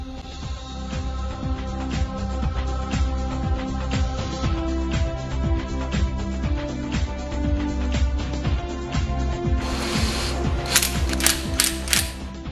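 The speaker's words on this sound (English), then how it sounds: "Tighten all the bolts to the specified torque as shown" A ratchet wrench tightens bolts on a Pulsar NS 200cc motorcycle engine during assembly, making a rapid, even run of loud metallic clicks close by, with a brief burst of sharper, brighter clicking near the end.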